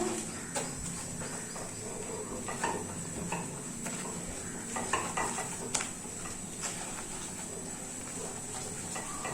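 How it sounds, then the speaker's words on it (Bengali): Sugar caramelizes in a pan for kheer doi while a spoon keeps it moving, giving a faint, continuous sizzle with small scraping ticks and light clinks against the metal. "এই সময় আমি কন্টিনিউ এইভাবে নাড়তে থাকবো।"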